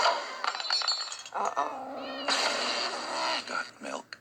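A cat meows several times in a kitchen, mixed with clinking of dishes and a person talking; the meows come in short, near, loud bursts.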